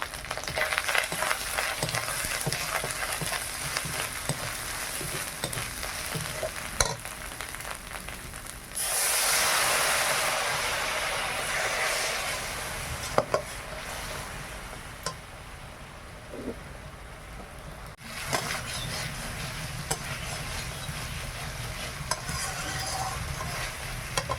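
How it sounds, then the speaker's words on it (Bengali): Spice paste of cumin, ginger, turmeric and chili powder frying and being stirred in hot oil, with a steady close sizzle, scraping stirs and a brief louder burst of hissing midway. "মশলাটা ভালোভাবে ভাজা হয়ে গেছে"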